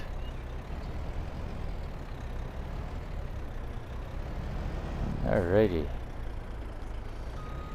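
A truck in a farming video game idles and rumbles low as it backs a trailer toward a barn door, a steady engine drone with a brief louder whine midway, while someone talks briefly.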